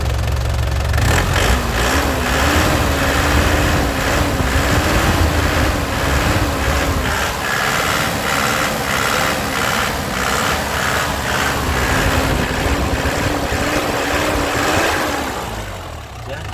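A 2010 black Isuzu Panther LS Turbo diesel engine revved up and held at high speed, loud and close with a rough, knocking drone that wavers a little before it eases off at the end.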